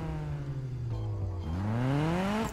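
A Toyota AE86 Hachiroku with a small engine fires up in Need for Speed 2015, a steady mid-pitched engine drone that dips slightly and then climbs as the revs rise, loud and close with no talking.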